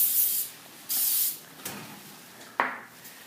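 Short hissing bursts of spray applied to a leg, several quick puffs spaced apart with faint handling knocks between them, close and fairly quiet.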